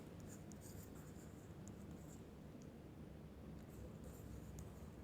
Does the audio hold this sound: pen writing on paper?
yes